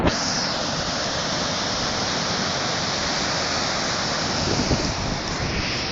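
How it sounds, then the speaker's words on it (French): Powerful river water rushing loudly and steadily, a dense continuous roar close by with no pauses and no voices. "Regardez-moi cette puissance de l'eau."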